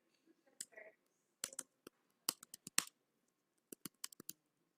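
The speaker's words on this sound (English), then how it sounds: "I type." Keys click on a computer keyboard as someone types into a report form, scattered light taps in short bursts, close and quiet.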